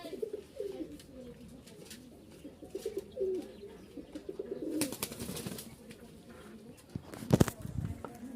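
A pair of diamond doves coo softly in a caged setting, low repeated calls mixed with light chirps and a brief flutter, while someone talks over them.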